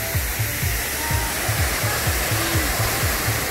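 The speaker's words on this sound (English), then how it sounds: "So they started up the waterfall." Steady rushing water from the Mystic River Falls ride waterfall at Silver Dollar City roars continuously, loud and close, with a rhythmic low mechanical thumping pulsing underneath throughout.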